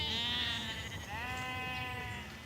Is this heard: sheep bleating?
yes